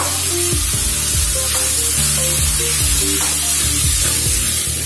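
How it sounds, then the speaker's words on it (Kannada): Chicken liver and kidney sauté over a high flame in oil with ginger-garlic paste. The loud, steady sizzle runs the whole time, and a few stirring scrapes break through it now and then. No one speaks. "ಇದನ್ನ ಅರೌಂಡ್ 1-2 minutes ಹೈ ಫ್ಲೇಮ್ ಅಲ್ಲಿ ಸಾಟೆ ಮಾಡಿ"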